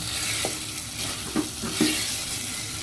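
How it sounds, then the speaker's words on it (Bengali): Meat stirred with only a little water in a wok gives a low, steady sizzle broken by a few louder scraping strokes of the spoon against the pan, fairly close and without voices. "মানে গায়ে যতটুকু পানি আছে এটা দিয়ে একটু নাড়াচাড়া করবো।"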